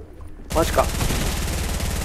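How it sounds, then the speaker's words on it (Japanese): Rapid automatic gunfire from the video game Fortnite played through a portable Bluetooth speaker, a sudden dense burst of continuous shots following a quiet moment, with a voice reacting briefly over it. "でもこの銃弾の音が右に左にすげえ。"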